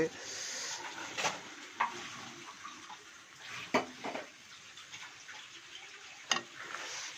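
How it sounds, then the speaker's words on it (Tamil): A spoon scrapes and stirs boiled eggs through frying mutton masala in a pan, a soft, steady sizzle broken by several sharp taps and clicks of utensil against metal, with speech faintly present. "இந்த மசாலா ரெடி ஆனதுக்கப்புறம் இந்த மசாலாவோட இந்த முட்டையை போட்டுக்கிறோம்"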